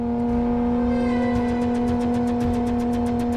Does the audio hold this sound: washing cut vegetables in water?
no